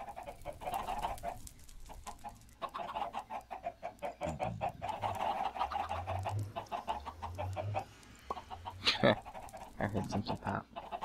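A flock of Minecraft chickens clucks repeatedly up close, short overlapping clucks forming an uneven chatter, while a voice speaks intermittently over them and a louder burst briefly stands out near the end.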